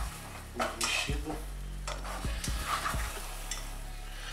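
A utensil stirs and scrapes scrambled eggs in a pan, with sharp metallic clanks against the pan at irregular intervals over a soft, steady background hiss.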